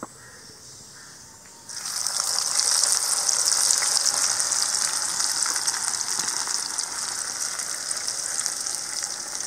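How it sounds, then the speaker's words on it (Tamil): Cauliflower pieces drop into hot oil at an outdoor village kitchen, setting off a sudden loud, steady hiss and crackle of frying that continues without pause, close up and alone. "மாதிரி மிச்சம் இருக்கிற காலிஃப்ளவரையும் ஃப்ரை பண்ணி எடுத்துறலாம்"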